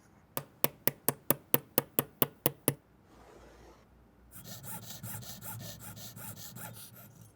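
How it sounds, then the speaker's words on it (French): Hand filing on a small part of a vintage Audemars Piguet watch: about ten sharp, evenly spaced rasping strokes up close, then a pause and a steadier, denser scraping texture. "Je trace tout le tour de la pièce originale pour pouvoir suivre mes traits à la lime."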